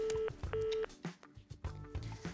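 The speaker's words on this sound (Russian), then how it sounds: "Да вот постоянно просто звонят, и, и уже невозможно разговаривать" A telephone keeps signalling incoming calls with two sharp, steady electronic beep tones in quick succession, followed by softer clicks and clatter nearby.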